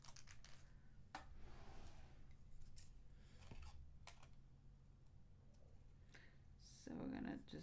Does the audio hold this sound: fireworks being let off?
no